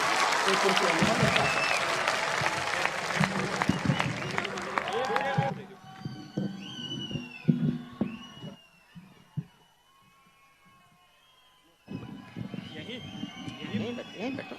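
Audience applause for a poet at a poetry recital, a loud burst of clapping that cuts off abruptly, followed by quieter stretches with talk and scattered sounds.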